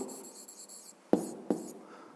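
A pen scratches briefly on paper during a physics exercise, with two quick, close strokes standing out from a quiet room background.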